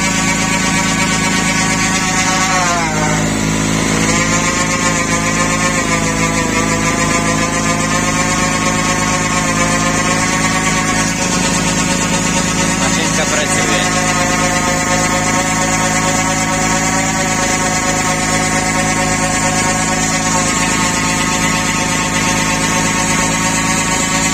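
A two-stroke petrol generator, Eurom GE 720, runs continuously and loudly up close with a buzzing, harmonic engine drone whose pitch dips and wavers as the load changes, no voices.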